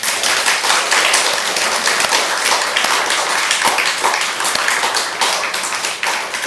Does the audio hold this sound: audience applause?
yes